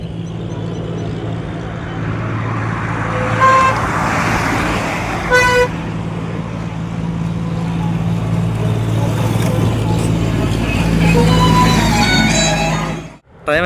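Car driving along a road among other traffic, with steady engine and road rumble, a passing horn toot, and a brief dropout near the end.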